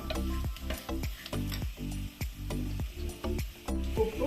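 Coconut pieces fry in a pan with green chillies for a Kuttanadan prawn theeyal. A spoon stirs in steady, rhythmic scraping strokes over a constant close sizzle.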